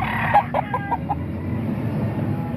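A chicken gives a quick series of about five clucks early on, then only a low background rumble remains.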